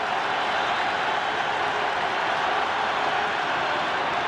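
Large stadium crowd roaring steadily at Mountaineer Field during a 1987 Pittsburgh at West Virginia college football game, a dense continuous wash of cheering and applause with no break.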